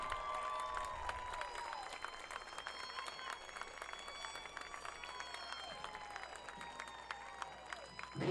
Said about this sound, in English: how about a big round of applause for all of the royalty